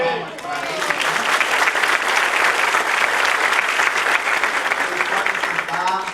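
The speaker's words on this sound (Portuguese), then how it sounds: "Dê uma salva de palmas para eles." A church congregation at a family service bursts into sustained applause, dense loud clapping that swells quickly, holds steady and then tapers off near the end, with faint voices underneath.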